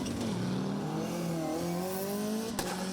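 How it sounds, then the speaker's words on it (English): A classic Audi Quattro rally car at a Cadwell Park rally stage, its engine chattering and revving with rising and falling tones, loud and close, with a brief sharp crack near the end. "The classic Audi is stunning, and hearing it chattering away as they go for it is ace."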